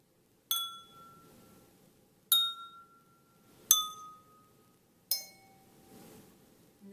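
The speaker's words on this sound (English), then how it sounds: "if you just tap it in the same location on each glass" Four separate bright clinks ring out from wine glasses holding different amounts of water, each tapped in the same spot, with clear ringing tones that fade after each strike and a lower pitch on the last.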